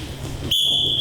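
A referee's whistle at a high school wrestling match cuts in halfway through, one sharp, steady, shrill blast held to the end over a dull crowd murmur.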